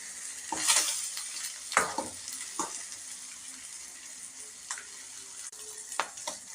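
Egg omelette batter frying in a hot pan, a low steady sizzle broken by a few sharp scraping and stirring clicks from a spatula, close and fairly quiet with no talk.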